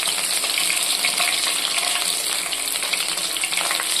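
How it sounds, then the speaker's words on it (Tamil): Mustard seeds, fenugreek and shallots fry in oil for a roasted-and-ground sardine fish curry, making a dense, continuous loud sizzle with no pauses. "கடுகு, வெந்தயம், சின்ன வெங்காயம் இது 3 நல்லா எண்ணெயில் பொரிஞ்சிருச்சு."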